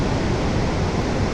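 Water of Niagara Falls rushing in a dense, steady roar, loud and unbroken like heavy surf, with no other sounds over it.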